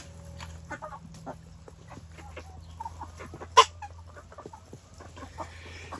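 Cornish cross meat chickens, roosters and hens together, give scattered soft clucks and short calls in a quiet pen, with one sharper squawk standing out midway over a low steady hum.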